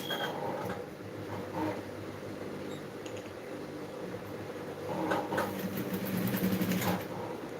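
A sewing machine runs in short bursts of rapid stitching, pausing between runs, with a faint steady hum in the background.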